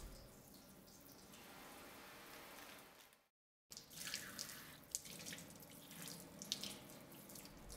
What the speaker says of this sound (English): you need to put your hands back underneath the water to rinse